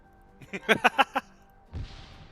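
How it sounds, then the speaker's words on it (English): Frag grenade going off in the military shooter Arma 3, a single muffled, low-heavy blast that follows a quick burst of voice chatter. "Just threw a grenade at a friendly, dude."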